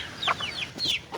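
Chickens clucking nearby on a farm, a few quick high chirpy calls in succession against a faint background hiss.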